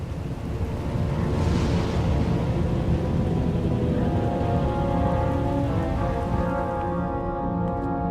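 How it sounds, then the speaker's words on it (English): Heavy storm rain in Star Wars: The Old Republic, a loud, continuous hiss of downpour with a low rumbling roll of thunder beneath, steady throughout and fading slightly at the end. "Looks like the storm's not letting up anytime soon."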